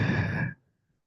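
One long, breathy exhale during a kriya breathing practice, close and fairly loud for about half a second before cutting off sharply into silence.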